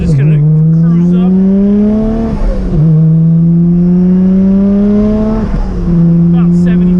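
An R32 GTR with two-way differentials and upgraded Brembo brakes roars close and loud, its engine note rising and dropping through repeated revs and shifts. The run ends in a hard braking stop from about 75-80 mph with all four tires locking.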